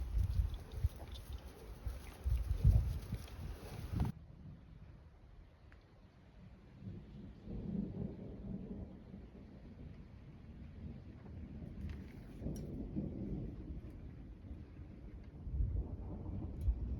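Rain drumming on the roof of an off-grid homestead during a thunderstorm, low rumbling swells coming and going, with a hiss in the first few seconds that then drops away.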